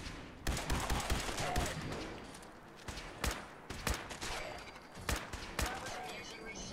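Semi-automatic rifle fire in the video game Fallout 4 Far Harbor, with sharp single shots in irregular bursts against ghouls, loud and close, while a player talks.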